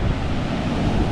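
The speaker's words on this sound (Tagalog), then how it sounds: "Laki sobra ng alon, guys. Sobra. Laki ng tubig." Large sea waves at a shoreline with many boats nearby, a steady loud rush of surf mixed with wind buffeting the microphone, no voices.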